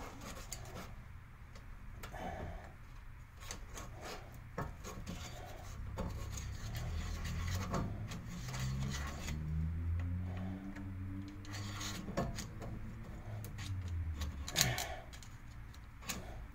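A broken wheel bearing in a 1999 Kia Sportage hub rolls with faint, irregular ticking and gritty rubbing, close by and fairly quiet, with a low hum underneath.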